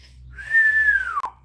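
A person whistles one sustained, slightly falling tone to imitate a hiss. The whistle is loud and close and cuts off with a brief breathy end, with no voices.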